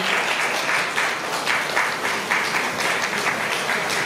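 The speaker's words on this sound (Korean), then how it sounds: "박수로 맞아 주십시오." Audience applause fills a press event for an MBC drama launch, a steady dense wash of clapping that holds loud and even from start to finish with no voices over it.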